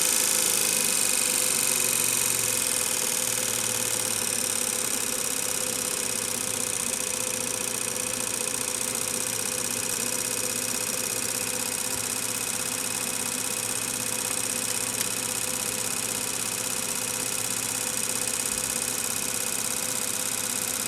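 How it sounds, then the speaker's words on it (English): An electric motor in a magnetic field demonstration, giving a steady mechanical hum and whine that stays fairly even, with a slight drop in pitch early on. "I'm going to start decelerating the motor, and you can see how it goes down in speed."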